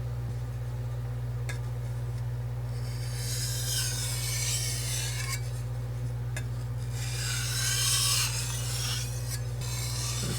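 A knife blade is stroked across a sharpening stone in repeated rasping scrapes that come close and clear over a constant low electrical hum.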